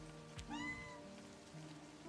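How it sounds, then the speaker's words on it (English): A single clear cat meow in the video game Livber: Smoke and Mirrors rises and falls over a steady bed of rain and quiet background music. "There's a cat."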